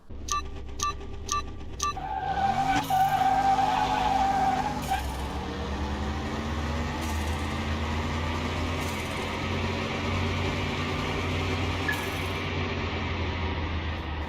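A turbocharged car on slick tyres launches down a quarter-mile drag strip in Car Mechanic Simulator 2021, with a few rhythmic ticks, then a sustained engine roar climbing through gear shifts at a loud, steady level.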